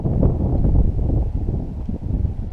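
Outdoor wind at a shooting range buffets the microphone in a continuous loud, low roar with gusty surges and rustling, no voices present.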